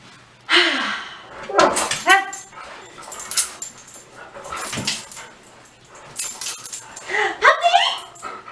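A small dog yips and barks in short, high-pitched bursts with whimpers between, close by, while people talk over it.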